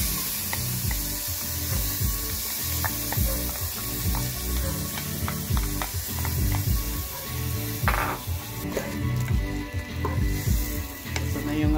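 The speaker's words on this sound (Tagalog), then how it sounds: "Lagay naman natin ang ating hinugasang glutinous rice o malagkit." Washed glutinous rice sizzles in a hot pan with steady frying hiss, broken by scraping stirs, close and continuous throughout.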